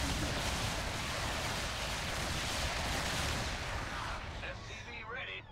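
Combat gunfire in the real-time strategy game StarCraft 2, a dense continuous roar of rapid shots and explosions, loud throughout and easing slightly at the end.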